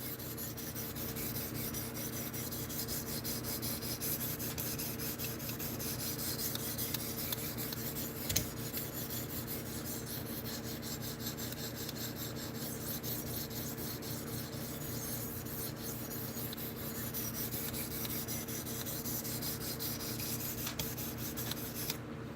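A blade rasps against a medium grit sharpening stone in a continuous, even rubbing that runs for over twenty seconds, quiet and close, with no voices.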